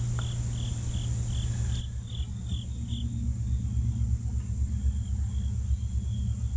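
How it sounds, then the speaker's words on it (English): Crickets chirp in a steady, rapid pulsing trill over a constant low rumble of outdoor background noise by a lake. "Y'all hear the crickets?"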